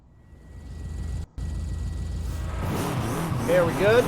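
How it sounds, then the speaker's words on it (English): A car engine in Forza Horizon 5 hums steadily, drops out briefly, then climbs into loud revving with rising and falling pitch sweeps, while a voice talks over the game. "Revving sounds and my voice."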